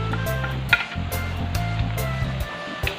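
Pork liver for batchoy fries in a pot with meat and onions, a close, steady sizzle broken by stirring scrapes and an occasional metallic clink, with no voices.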